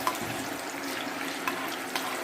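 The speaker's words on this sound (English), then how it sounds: "Then we add it to the oil." Finely chopped overripe plantain frying in hot oil, giving a steady, close sizzling hiss with a few faint pops and no talking.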